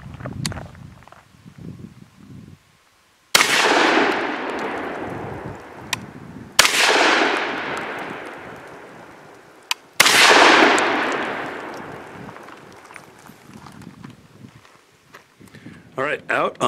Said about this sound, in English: Got an EOTech on here using 3 shots of double-aught buck.